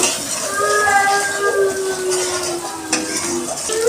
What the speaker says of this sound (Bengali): ভালো করে কষানো হয়ে গেছে